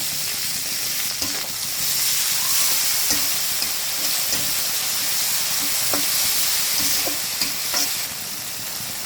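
Dried shrimp and chopped onion fry in oil with a continuous close sizzle, punctuated by intermittent scraping and clicking as a spoon stirs the pan, with no voices.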